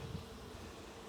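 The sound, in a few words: honey bees buzzing in a nuc hive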